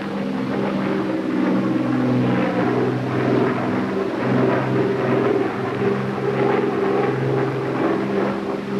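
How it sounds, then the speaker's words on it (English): An A-26 Invader propeller aircraft climbing after takeoff roars steadily with a deep, droning engine hum, loud and continuous with slight pulsing throughout. "I fly her off the ground."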